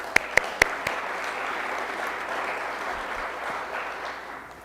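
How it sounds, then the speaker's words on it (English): A church audience applauds its volunteers, a few sharp claps at first and then a steady wash of clapping that holds for several seconds and slowly thins out. "Round of applause for them."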